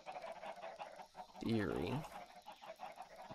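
A Minecraft chicken lets out a brief run of clucks near the middle, fairly close, underneath someone talking over a quiet game background.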